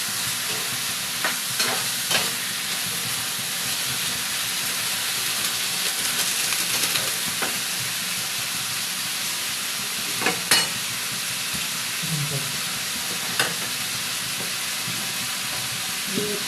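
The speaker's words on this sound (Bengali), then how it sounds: "একটু ভালো করে নেড়ে দিতে হবে।" Khichuri with coconut and garam masala is stirred in a pot, giving a steady frying hiss broken by occasional soft scrapes and knocks of the spoon, close, with no talk.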